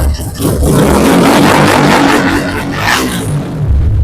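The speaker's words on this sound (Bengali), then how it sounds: "রিমোট প্রেস করার সাথে সাথে কিন্তু বাইক স্টার্ট হয়ে গেল" A 2025 GSR Movistar motorcycle engine started by remote, a loud close engine roar that swells and holds through a rev before easing off near the end, with no talking.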